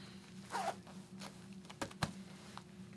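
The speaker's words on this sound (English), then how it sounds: "Let's go ahead and grab the zip." A zipper being drawn on a motorcycle track jacket worn over a chest protector, a few quick, close rasping pulls with light rustling of the gear around them, no talking.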